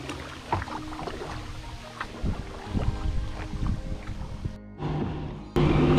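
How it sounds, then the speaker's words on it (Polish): Strong wind buffets the microphone during a kayak trip on the Rega river, a steady broadband rush with faint paddle and water sounds beneath it, swelling louder near the end. "No i mocno wieje wiatr,"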